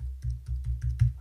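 Short burst of close, quiet typing on a computer keyboard, about half a dozen quick keystrokes in an irregular rhythm.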